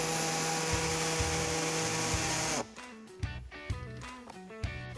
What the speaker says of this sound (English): we're going to additionally need to cut out another about 1/2 inch of plastic right here